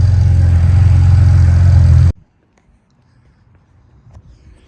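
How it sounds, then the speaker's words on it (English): A BMW Z4 turbo car engine runs steadily while warming up, a loud continuous low rumble for about two seconds that then cuts off abruptly, leaving near silence with faint small clicks. "Z4 is up and running. I'm gonna let it warm up a little bit."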